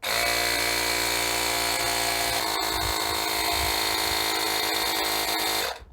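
A Fanttik X8 Apex portable air compressor runs with a loud, steady high-pitched buzzing whine, then shuts off automatically near the end.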